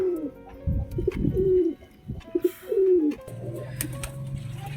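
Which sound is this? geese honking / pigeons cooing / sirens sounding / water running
pigeons cooing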